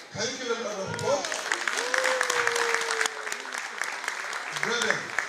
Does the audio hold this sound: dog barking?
no